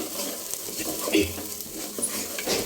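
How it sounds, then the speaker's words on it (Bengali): Rice for pilaf sizzles gently in hot oil while a utensil stirs and scrapes against the pot, close by and fairly soft. "এখন আমি চালটা ভেজে নিচ্ছি"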